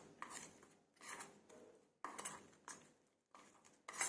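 Chicken marinade spices and ginger garlic paste being stirred in a bowl for tandoori chicken leg pieces, with soft scraping strokes of a spoon against the bowl in several bursts with short pauses, faint and close.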